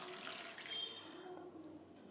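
About one and a half glasses of water is poured into a pan of potato masala, a soft, brief splashing pour heard alone at low volume.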